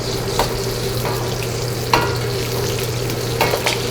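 Scallion, ginger, sliced garlic and green Sichuan peppercorns stir-fried in oil over medium heat, making a loud, steady close-up sizzle with a low hum underneath and occasional scraping strokes of the spatula.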